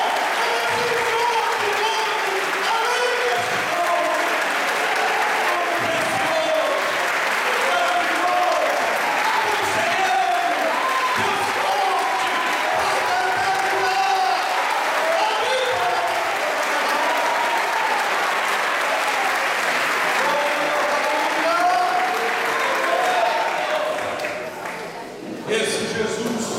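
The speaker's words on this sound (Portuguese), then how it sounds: "Dê uma salva de palmas para Ele." A church congregation at a Baptist church anniversary service claps long and steadily, with voices and a musical tone under the applause, before it thins out near the end.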